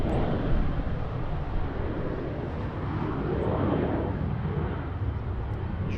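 An aircraft lands at Lisbon Airport, its engines producing a continuous broad, rumbling roar that stays loud and steady throughout.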